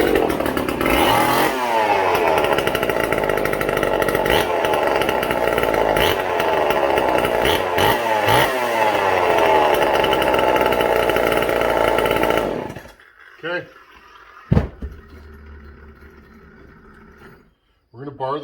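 A modified Homelite chainsaw engine runs loud and close for about twelve seconds, buzzing and revving in surges, then cuts off, leaving quiet with a few clunks and handling noises.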